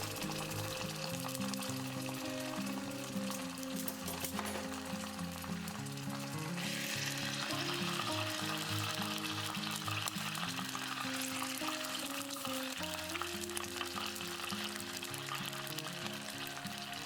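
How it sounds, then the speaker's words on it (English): Butter sizzling and bubbling as it melts into very hot caramel on lowered heat for a pear caramel cake, a loud continuous hiss that stays steady over background music. "Now add the butter, be careful, the caramel is really hot"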